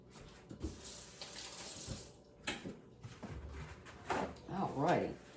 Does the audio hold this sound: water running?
yes